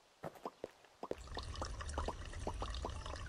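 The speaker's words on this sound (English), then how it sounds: "let's go refill our water" Water refilling in the video game Pumpkin Panic: a few separate drips first, then a steady trickling pour with repeated bubbly splashes, fairly close and moderately loud, with no talking.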